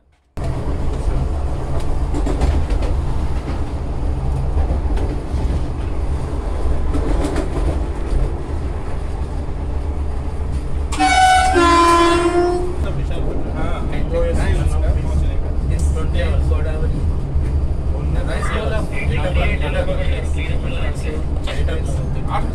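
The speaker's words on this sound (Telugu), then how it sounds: "కోరమండల్ ఎక్స్ప్రెస్ ట్రైన్ని మన ట్రైన్ ఓవర్టేక్ చేస్తుంది." Vande Bharat Express on its inaugural Secunderabad–Visakhapatnam run overtakes the Coromandel Express: a loud, steady rail rumble throughout, with a sharp horn blast about halfway through.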